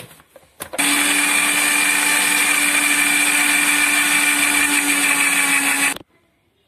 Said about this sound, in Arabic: بنضيف عليهم معلقه فانيلا، راح نشغل عليهم الخلاط